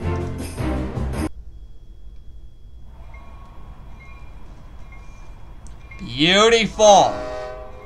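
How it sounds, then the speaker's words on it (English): A train at the train station in the Club Penguin video game sounds a loud, close, wavering horn or whistle blast after a short voiced remark and a quiet stretch. "we have to go to the train station."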